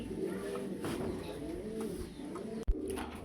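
Fancy pigeons of a high-quality foreign breed coo softly in a loft, low repeated throaty calls over a constant background hum, with a sharp knock near the end.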